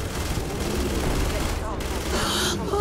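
Rapid gunfire in a firefight in Starfield, a dense continuous volley of shots with a burst of noise near the end, heard under an excited voice talking.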